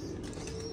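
Pigeons cooing softly in a loft, a brief continuous murmur of low calls at moderate distance with no talk.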